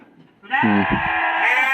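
One long, loud Boer goat bleat, wavering and close, after a brief quiet moment.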